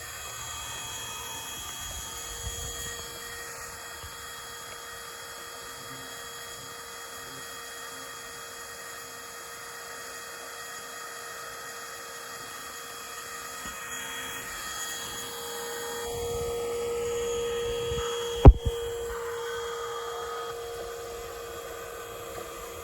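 A vacuum device sucks in baldfaced hornets at a large nest in Indiana, giving a steady whining hum with faint buzzing, and a sharp knock near the end.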